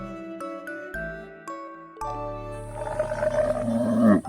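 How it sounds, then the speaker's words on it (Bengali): A bright chiming jingle of bell-like tones leads into a lion's roar that swells in loudness toward the end, all set against a musical background. "দন্তস্বয় সিংহ রাগে কেশর নাড়ে"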